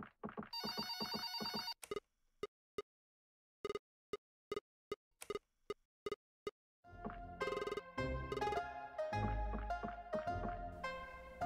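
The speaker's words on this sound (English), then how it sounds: "Answer the phone." A telephone rings in a video game, sounding as a series of short, repeated electronic ring bursts with silent gaps, then giving way to busier game music and sound effects.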